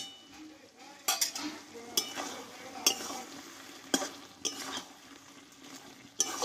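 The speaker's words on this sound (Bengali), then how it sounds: "ঘিটা দিয়ে আমি কিছুক্ষণ আবারও নাড়াচাড়া করে নেব।" Pumpkin curry with a little ghee is stirred in a pan, giving a soft, low sizzle broken by sharp, roughly once-a-second clacks of a spoon against the metal, with a brief spoken word near the end.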